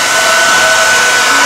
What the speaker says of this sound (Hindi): ड्रायर से सुखा ले।